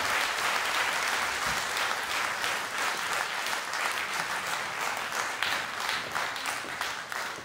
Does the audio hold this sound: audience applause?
yes